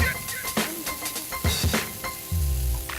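Dry-aged beef sizzling on a Korean barbecue grill, a bright crackling hiss with tongs clicking and scraping against the grate and a rumbling low bed of restaurant noise near the end.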